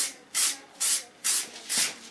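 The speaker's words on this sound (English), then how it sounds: "It's a dry spray with styling elements in it." Dry styling hair spray from an aerosol can hisses out in four short, even bursts spaced about half a second apart, close and clear with no talking.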